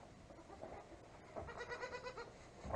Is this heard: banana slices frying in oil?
no